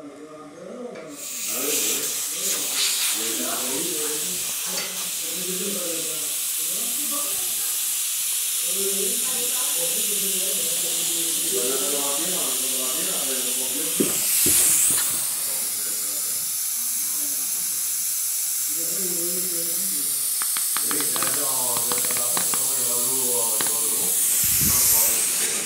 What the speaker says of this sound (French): moi j'ouvre le purgeur d'air de ce radiateur là